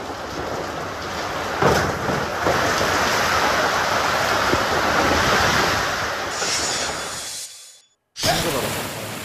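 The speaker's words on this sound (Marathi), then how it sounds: "वादळी वारे सुटले." Stormy wind and rain roar as a dense, steady broadband rush with a few gusty surges, then cut abruptly to a moment of silence before the noise resumes.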